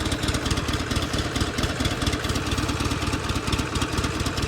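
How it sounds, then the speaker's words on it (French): A Buell XB12X motorcycle's Harley-style V-twin idles close by in a steady, loud, lumpy rhythm of pulses, with no voices. "Ah, c'est le bruit typique Harley."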